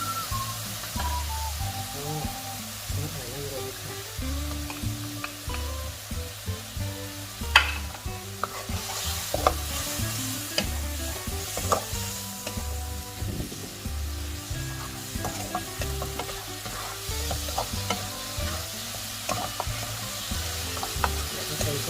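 Pork with shrimp paste and long beans being stirred in a pan, a constant sizzle under repeated scraping and clanking of a spatula against the pan, close and continuous, with no speech.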